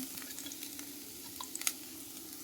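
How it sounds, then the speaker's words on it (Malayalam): Garlic fries in melted butter in a hot pan, making a quiet, steady sizzle with small pops and crackles and a couple of sharper spits near the end. "അതിലേക്ക് വെളുത്തുള്ളി ഇട്ട് അതൊന്ന് ചൂടാവുമ്പോഴത്തേക്ക്"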